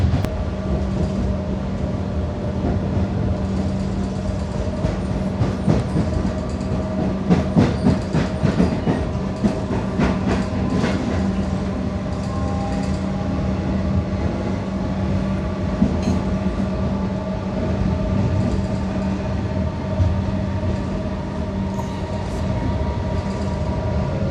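Steady rumble inside a moving Melbourne commuter train, with a low hum and a burst of rhythmic wheel clatter over the rails partway through.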